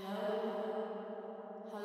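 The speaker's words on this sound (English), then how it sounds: "And now let's turn on our reverb again." Cave-style reverb effect from Nuendo on a spoken voice, a faint sustained echo tail ringing and slowly fading, with no words over it.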